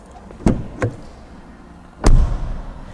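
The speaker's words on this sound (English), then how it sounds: "This entire rear door shakes every time I open and close the front door." A Volkswagen ID.3 facelift's front door is opened and shut, giving sharp knocking thuds with a loose rear door rattling along; three distinct impacts, the last and heaviest a solid slam, up close with no talk.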